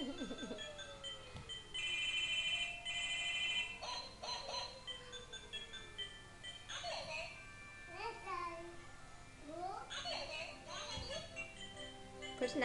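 An electronic toy phone plays bright ringing tones and chirpy melodic beeps, while a young child babbles and an adult speaks nearby, with the toy sounds recurring throughout.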